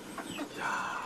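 Hens in a mountain village in Yunnan cluck and murmur softly at close range, a brief, low run of throaty calls over faint background noise.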